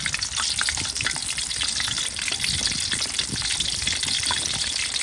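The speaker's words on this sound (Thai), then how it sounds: "เนื้อลงมาทอดด้วย" Pork belly for quick crispy pork fries in hot oil, a loud, dense, close crackle and bubbling sizzle that runs unbroken with no voices.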